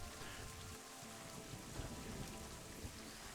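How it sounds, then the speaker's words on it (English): Steady, dense rain hisses in the Planet Zoo video game, a continuous wash of patter with no breaks and a faint low rumble underneath. "Imagine trying to get out of the rain, though."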